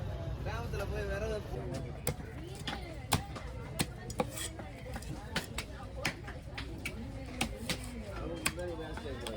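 A large rare fish being hacked apart with a heavy knife at the Kasimedu fish market, with sharp chopping strikes landing irregularly every half second or so beneath continuous chatter and market bustle.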